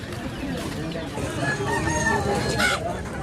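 Chickens at a poultry shop in the Wednesday weekly market at Jengkha, Karbi Anglong, Assam, cluck and squawk continuously and close by, over a busy market background.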